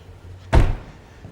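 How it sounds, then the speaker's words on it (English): Front boot lid of a Mazda 6e electric car being opened, a single close, solid thunk with a short rattle that quickly fades, heard alone against quiet background. "Just open that door if I can ever get those hands used to those handles."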